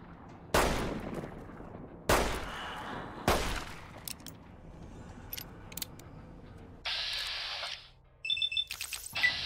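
Fallout New Vegas gunfire: three sharp, loud shots spaced about a second and a half apart, then quieter clicks and electronic tones from the game, with no talking.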